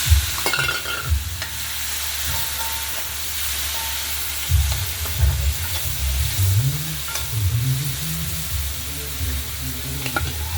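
Boiled potatoes and peas being stirred in a pan with masala for pani puri filling, repeated scraping and mixing strokes over a low sizzle, close and continuous with no voices.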